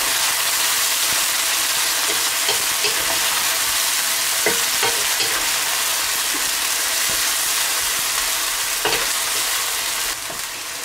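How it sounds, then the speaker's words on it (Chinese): Beef stir-fried in a hot wok for a chili sauce gives a steady, loud sizzle and crackle lasting the whole stretch, with occasional scrapes and clinks of the spatula and no talking. "然后下入牛肉， 将牛肉给它炒至变色"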